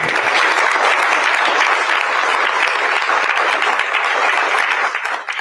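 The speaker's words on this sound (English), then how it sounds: "round of applause" A room full of people applauding after the President's remarks, steady loud clapping that holds for about five seconds and tapers slightly at the end.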